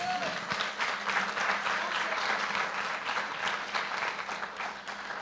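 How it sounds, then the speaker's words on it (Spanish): A church congregation applauds steadily and loudly for several seconds during a sermon, dense sustained clapping filling the room, with a voice speaking over it. "Denle un aplauso al Señor"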